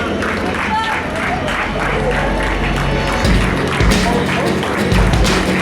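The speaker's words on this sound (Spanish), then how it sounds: "Los aplausos del personal de servicio dan un final inesperado a este maravilloso" Staff aboard the Belmond Andean Explorer luxury train in Peru applaud at the journey's end, a steady wash of clapping and crowd noise with scattered thumps and a few louder bursts of claps.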